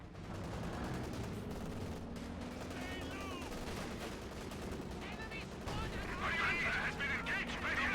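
MG42 machine gun fire rattles in a World War II strategy video game: steady, dense gunfire bursts with distant booms keep up throughout, growing louder toward the end, under a commentator's voice.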